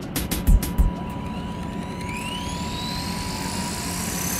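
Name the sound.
Walkera V400D02 RC helicopter spooling up and taking off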